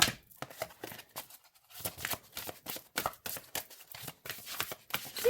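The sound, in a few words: oracle cards being shuffled overhand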